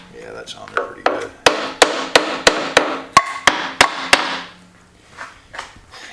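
Lead hammer striking a tailstock part from a Monarch 10EE lathe during disassembly, a steady run of about ten sharp, evenly spaced metallic blows close up, with faint talk before and after.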